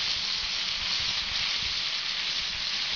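Burgers frying in a pan over a very hot in-ground prototype rocket stove, giving a continuous close, bright crackling sizzle.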